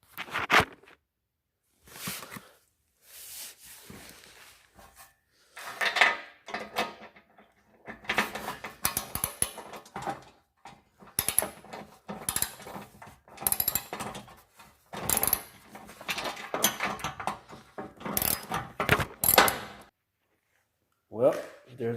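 A 10 mm wrench tightens the screws of a running board on a 2017 Ford Explorer in a garage, with repeated bursts of close, clicking ratchet strokes separated by short pauses.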